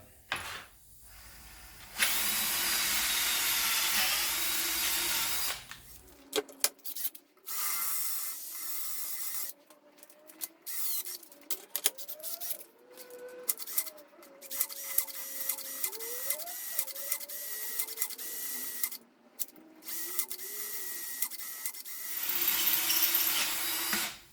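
A power drill whines in bursts, its pitch rising and falling as it bites into a corroded tubeless valve nut on a Ducati 900SS Supersport wheel, with pauses and clicks between runs.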